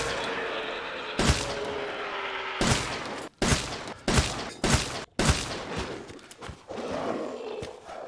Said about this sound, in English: only 7 shots from the fully upgraded with parts SIG-12